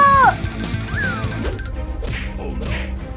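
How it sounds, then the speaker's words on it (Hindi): Cartoon cats meow in high, sliding cries over a thumping, crashing backdrop, with loud whooshing impacts near the end. "कैट्स की आवाज आ रही है, लगता है वो किसी मुसीबत में है।"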